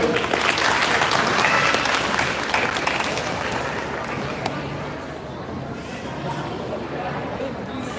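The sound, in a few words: audience applause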